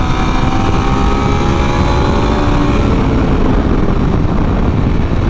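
Aprilia RSV4 Factory 1100 superbike running at full power on a race track, a loud, sustained engine roar with shifting harmonics throughout, close and dense, without any talking over it.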